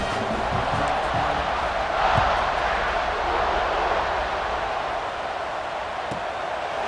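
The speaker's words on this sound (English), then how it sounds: "this crowd is buzzing after that last score" A stadium crowd in EA Sports College Football 26 buzzes after a touchdown, a broad, steady roar that swells briefly around the middle and then settles into a continuous wash of noise.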